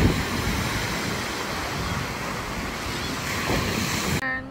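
Ocean waves rolling onto a beach in a steady, loud wash with gusty wind buffeting the microphone, continuous throughout, with a brief change in tone near the end.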